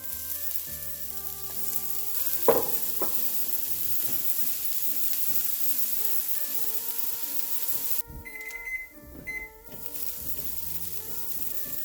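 Onions and carrots sizzle and fry steadily in a pan for vegetable fritters, a continuous hiss with occasional stirring clatter and a brief sharper crackle, close and alone without talk.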